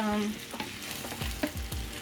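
Chicken wings sizzle in a small hot frying pan and are stirred or scraped a few times, with a steady frying hiss underneath.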